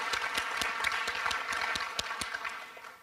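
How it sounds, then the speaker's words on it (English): Applause at a youth human rights awards ceremony in Iowa City, with scattered individual claps over a soft crowd wash, moderately loud and thinning toward the end. "let's give another round of applause for all the great acts our youth are performing"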